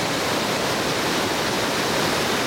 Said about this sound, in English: they'll meet the surge of water coming down this fish path